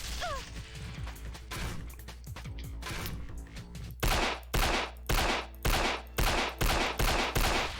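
Rapid bursts of gunfire from the video game Banzai Escape: a quick run of sharp shots, then about eight loud, evenly spaced heavy blasts in steady rhythm over a faint game background.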